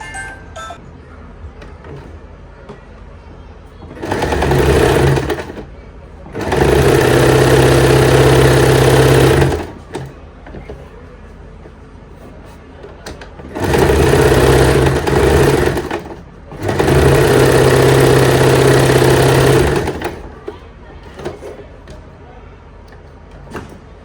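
A sewing machine stitches a 4-inch salwar belt, running loud and close in four bursts of a few seconds each in two pairs, with quieter pauses between them.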